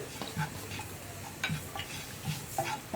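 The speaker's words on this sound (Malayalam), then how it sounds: "ഇനി ഇതെല്ലാം ചേർത്തൊന്ന് ഇളക്കി കൊടുത്തുകൊണ്ടിരിക്കുക." Egg curry masala in a hot pan with the flame off is stirred with soft repeated scraping and light clinks of the spoon, over a faint low sizzle.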